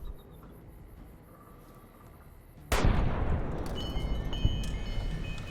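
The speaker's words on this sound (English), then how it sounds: "Let me at him with my shotgun." A loud shotgun blast from the video game Fallout New Vegas cracks out after a quiet stretch, followed by a dense, noisy tail of gunfire and combat sounds that stays loud to the end.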